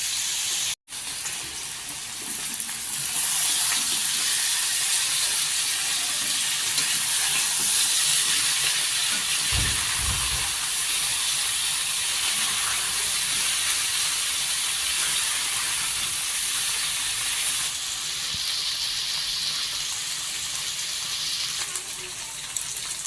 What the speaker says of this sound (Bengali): মাছগুলিকে আমি হালকা হালকা করে ভেজে নেব।